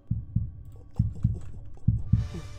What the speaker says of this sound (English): Did you guys hear the heartbeat?